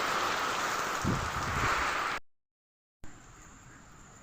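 Heavy rain pours down where ducks paddle in rainwater, a dense, close hiss that cuts out abruptly for a moment, then returns more quietly.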